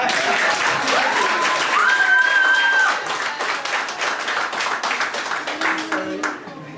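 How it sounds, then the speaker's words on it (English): At a 40th birthday celebration in Pflugerville, Texas, a crowd claps together as a praise offering, with loud, rhythmic claps continuing under voices and a sustained sung or called tone. "Clap for happiness."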